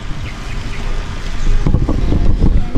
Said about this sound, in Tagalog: Sobrang sarap po ng hangin mga kalab, promise.